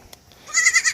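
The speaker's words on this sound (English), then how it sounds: "There's a little baby goat right there." A baby goat bleats near a small animal and duck enclosure, one short, wavering, high-pitched cry heard close after a faint tap.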